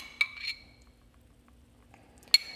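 A metal spoon clinks against dishes while cupcakes are filled with frosting in a kitchen: two bright clinks at the start, then quiet, then another sharp clink near the end, close and clear.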